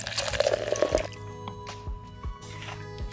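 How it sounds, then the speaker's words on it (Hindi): Water poured into a mix of cement, gravel and sand, heard as a close splashing gush followed by scattered wet drips and squelches. "उसके बाद इसमें पानी डालेंगे"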